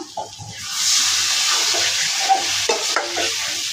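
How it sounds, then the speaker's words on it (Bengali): Water poured into a pan of hilsa fish with potatoes and taro, a broad steady hiss and splash that holds close and loud for several seconds with small clinks of a utensil. "তো বন্ধুরা এখন জলটা দিয়ে নিব।"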